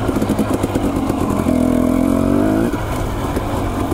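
Trail motorcycle on a rocky mountain singletrack in Idaho: a close engine pulsing at low revs, then a steady higher drone for about a second, then dropping back to a rough chugging.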